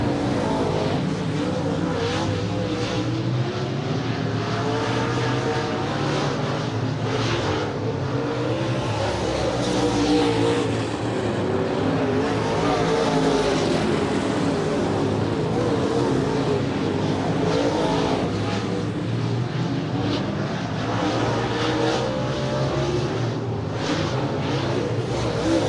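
Race cars battle through a heat race on a track, their engines roaring continuously as they pass and rev in a dense, sustained wash of sound.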